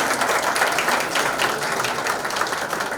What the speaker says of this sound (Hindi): सॉन्ग अनवील करने से पहले ताली.